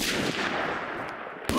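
A sniper rifle shot in the Phantom Forces video game, a loud, close blast with a long fading tail, followed by a second sharp crack near the end.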